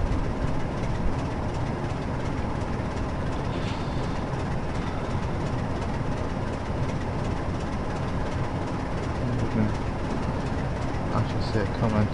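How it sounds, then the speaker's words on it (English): Passing train on the Great Western Main Line near Oxford and Reading in Train Simulator 2013, a steady dense rumble of rolling stock that holds loud and continuous throughout. "There's a train about to pass us now."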